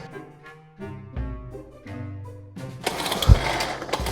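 A food processor blends potatoes with olive oil and smoked paprika, its motor starting in stepped, rising whirs before settling into a dense, loud whizzing grind, close and without speech.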